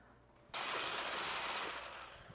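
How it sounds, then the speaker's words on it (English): Milk and melted butter pour into a bowl of three egg yolks, a steady broadband liquid rush that starts abruptly and continues loud and close, easing slightly toward the end, with no talking. "I'll add 150 milliliters of milk and 150 grams of melted butter."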